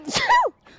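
A single sharp human sneeze, close and loud, with a rising then falling cry-like tail, followed by a brief quiet pause.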